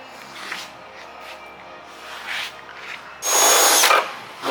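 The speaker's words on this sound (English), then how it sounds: "The last step is making the holes for the parking sensors before the paint" A power drill boring holes for parking sensors in a Bentley body kit panel, with a quiet first few seconds of faint scraping and handling followed by one loud, close burst of high-pitched drilling lasting under a second.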